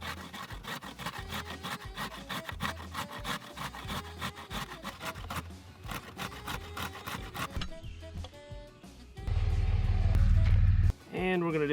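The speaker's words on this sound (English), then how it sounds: "And then I'm going to take our cheese grater." A carrot is shredded on a cheese grater with quick, rhythmic scraping strokes close up, followed by a few clunks and a brief loud hum near the end.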